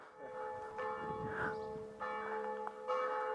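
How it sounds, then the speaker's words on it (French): Church bells ring steadily at a moderate distance, their sustained tones layered and humming, with faint outdoor background noise. "le beau clocher avec les belles cloches"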